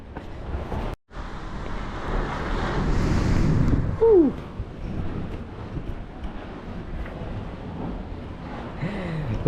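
Strong gusts buffet the microphone at a hidden beach in Oman, with surf rushing and crashing in a steady, loud roar that swells midway and never lets up.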